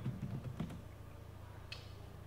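Fingers typing a command on a computer keyboard, a quick burst of faint, close key taps followed by a pause and a single later click in a quiet room.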